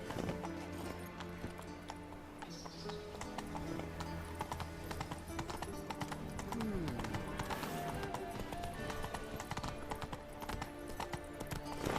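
Horse hooves trot in a steady clip-clop rhythm in The Witcher 3 on PS4, layered with game music and ambience while a character occasionally speaks.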